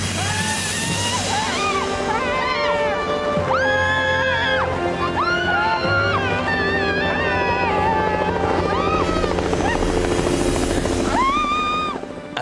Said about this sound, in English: is that sound of a helicopter.